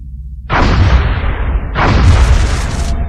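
Two heavy plasma cannon blasts fired at a UFO in X-COM Enemy Unknown, each a loud booming burst with a long roaring decay, the second following about a second and a half after the first, with no voices.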